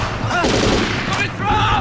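Incoming gunfire crackles in a loud, rapid burst, with raised voices shouting over the shots.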